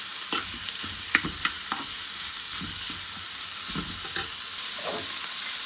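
Tomatoes and boiled chicken fry in a pan with a steady sizzle, broken by scattered taps and scrapes of a spoon stirring the mixture; no talking.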